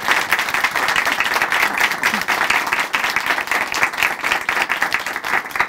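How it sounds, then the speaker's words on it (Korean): A church congregation gives a loud, sustained round of applause to a man who has shared his testimony. The clapping is dense and continuous from start to finish. "다시 한번 박수 보내드리겠습니다"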